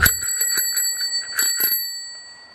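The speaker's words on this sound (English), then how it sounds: "At least my bell still works." A bicycle bell rings during a ride near a highway: a few quick, bright dings followed by a clear metallic tone that rings on and slowly fades, close and loud.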